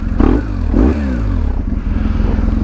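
A pack of about sixteen motorcycles heads out on a group ride, engines revving and rising in pitch in short bursts, close and loud with a rough rumbling undertone.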